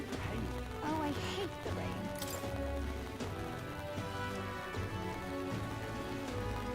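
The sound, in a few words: rain falling in the video game Metaphor: ReFantazio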